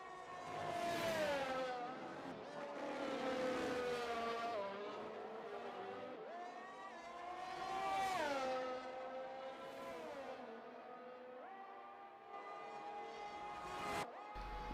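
Red Bull and Mercedes race cars battling wheel to wheel in a racing video game at Zandvoort, engines screaming and rising and falling in pitch through gear changes, one car close behind the other, with no talk.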